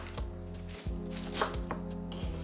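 A knife chops cabbage finely on a board in quick, evenly spaced strikes, close and crisp, with a low steady hum underneath and no talking.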